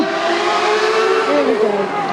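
A race car at the Goodwood Festival of Speed accelerates hard past the listener, its engine a loud, sustained roar rising in pitch over about two seconds, up close.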